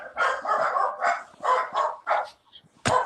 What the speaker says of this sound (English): I got to go let the dogs out.